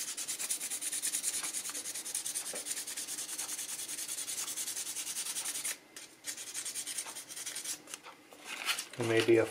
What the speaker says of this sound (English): And then I just kind of take a piece of sandpaper and just soften it up to 320 at this point.